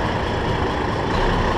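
A truck reverses out of a tight spot, its heavy diesel engine rumbling loudly and steadily up close, with no speech.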